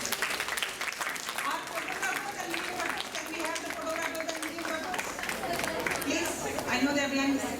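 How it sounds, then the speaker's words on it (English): An audience at a National Science Day school event applauds the students, a sustained wash of clapping with crowd chatter and voices mixed in throughout. "Please give a big shattering applause."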